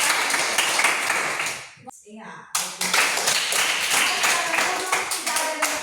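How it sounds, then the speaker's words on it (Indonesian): Students in a classroom clap their hands together in a dense, loud burst that stops briefly and then resumes, while a voice speaks over the clapping. "Iya, tepuk tangan."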